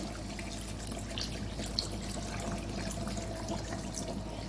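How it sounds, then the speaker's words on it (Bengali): Cold tap water pours steadily into a pot of mutton and potato curry, a continuous close splashing and gurgling stream throughout with no talk over it. "এবার জল দিয়ে দেবো গরম জল দিচ্ছি না আমি কাঁচা জলই দিচ্ছি"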